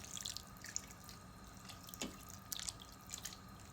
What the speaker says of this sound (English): I'm gonna add a little bit water to pretty much cover the shank